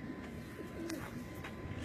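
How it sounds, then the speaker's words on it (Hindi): Soft, low pigeon cooing nearby on a rooftop, a few muffled coos over faint background noise. "आमिर भाई ऊपर कबूतर बैठ रहा है माशाल्लाह।"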